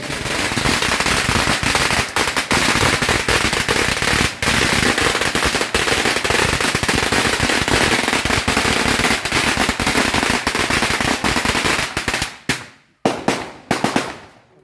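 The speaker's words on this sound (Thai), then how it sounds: "อาจารย์จะไปจุดประทัด" Long unbroken crackle of a firecracker string set off outdoors at a Thai lottery-number event, loud and dense for about twelve seconds before ending in a few scattered final pops.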